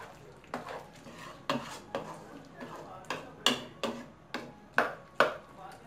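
Chicken Manchurian with chopped green onion stirred in a pan, a regular series of about a dozen spoon scrapes and knocks against the metal, fairly close, over a faint sizzle.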